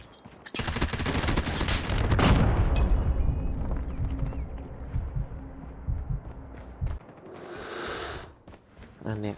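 A light machine gun in the mobile game Call of Duty Mobile fires a loud sustained burst, then quick metallic magazine-reload clicks follow as the roar fades, with someone talking over it.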